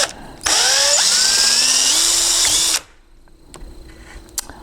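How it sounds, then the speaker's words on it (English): Power drill boring a hole through a hollow door with a 3/4 inch paddle bit, a loud close whine that rises in pitch as it spins up, holds for about two seconds and then stops abruptly, leaving quiet room tone with faint taps. "I'm actually changing to a 3/4 inch paddle bit because the 15/16 was just way too big."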